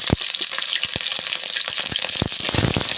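Bay leaf, cinnamon and cardamom fry in oil with a loud, steady sizzle full of quick crackles and pops, close up and with no talking.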